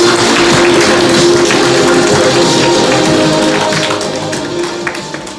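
A crowd at a Korean lawmaker's constituency report meeting claps loudly in a sustained round of applause that gradually tapers off near the end.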